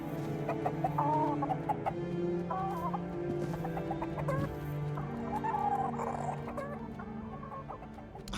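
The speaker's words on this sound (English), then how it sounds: "Chicken!" Chicken in the video game Tainted Grail: The Fall of Avalon, clucking in repeated short bursts over a low ambient drone, fairly close and continuous throughout with no voices.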